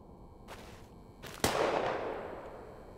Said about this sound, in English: Was that an Adobe stock sound gunshot?